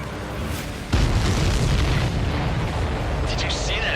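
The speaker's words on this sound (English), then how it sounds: "Did you see that explosion?" A deep booming explosion bursts out as a missile hits a supply ship in a flight combat video game, rumbling on with steady game noise continuing underneath.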